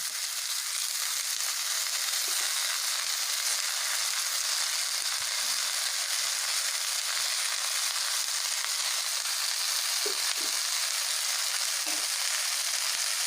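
Chopped pea greens for Bihari-style matar saag fry in a pan, giving a steady, even sizzle that holds for the whole stretch, with a few faint soft clinks and stirring touches and no voices.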